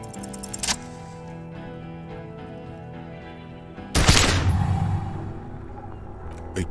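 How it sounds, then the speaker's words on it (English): Gunshot in the video game Disco Elysium, a single sharp loud blast that erupts after a stretch of quiet ambient music and rings out with a decaying tail. "A plume of smoke and fire erupts from the gun, and your hand goes numb from the explosion."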